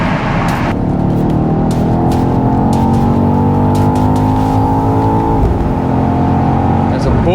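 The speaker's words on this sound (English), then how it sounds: "There's a burst that happens the moment you upshift that you can actually feel through the exhaust." A BMW XM's engine revs hard under steady acceleration, rising harmonics climbing then dropping at a sharp upshift around five seconds, with a brief exhaust burst as the pitch resets; loud and continuous with no talk.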